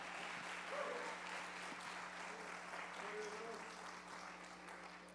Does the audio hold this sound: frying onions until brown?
no